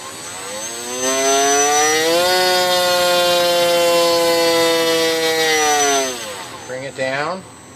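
Electric motor of an Arcus M glider whines under throttle, a steady high-pitched tone with stacked harmonics that rises and holds for several seconds before winding down near the end.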